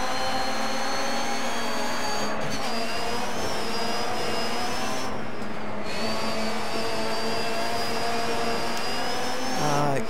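Rally car engines in the DiRT 3 racing game, a steady loud whine of revving motors with shifting tones and brief dips, continuous throughout with no talk.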